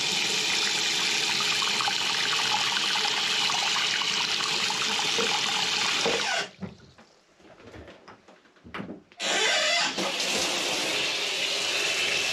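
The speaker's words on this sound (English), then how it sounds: "chase this down there with some hot water" Hot water pours steadily down an RV drain, a loud close rushing flow that cuts out briefly partway through with some faint clatter, then resumes at full strength.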